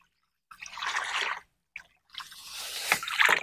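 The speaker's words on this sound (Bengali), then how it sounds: "তারপরেও আমরা আরো একবার ধুয়ে নেব।" Sand for a water filter being rinsed by hand in a container of water, giving wet squishing and sloshing bursts with dripping, two sessions split by a short pause.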